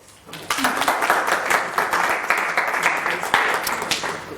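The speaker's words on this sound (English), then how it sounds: "Give a round of applause." Audience applause during a hypnosis training session as a volunteer comes up, a dense patter of many hands clapping that rises after a quiet start and holds steady for several seconds.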